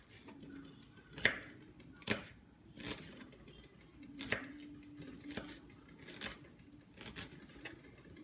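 A knife cuts slices of red onion on a board, making a series of sharp, quiet chops spaced about a second apart, close up with light scraping between strokes.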